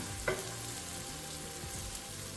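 Onions fry over high heat while being stirred for a Kenyan pilau, giving a close, continuous sizzle. A single utensil clink sounds near the start.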